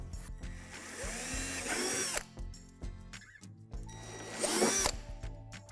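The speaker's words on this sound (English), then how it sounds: "Now drill out the 2 divots on the back edge of the sink." Two bursts of a power drill whining up to speed and grinding into the back edge of a playhouse sink, drilling out divots, separated by a short pause, close and fairly quiet.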